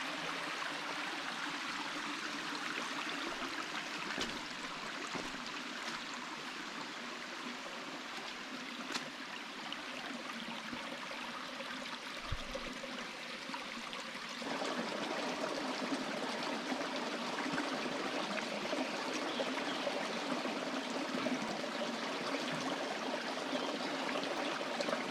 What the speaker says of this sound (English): It's just a little stream here.